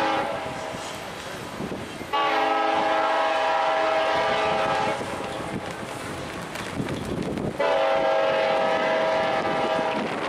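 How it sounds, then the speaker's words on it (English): A train rumbles past close by, its horn blaring twice in long, loud blasts over the steady clatter of the wheels. "There goes the train."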